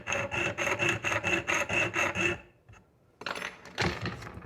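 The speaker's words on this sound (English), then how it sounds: "You see I went skidding down there with my file." A metal file rasps in about ten quick rhythmic strokes across a jaw harp frame, close and clear, then a pause and a few more scraping strokes.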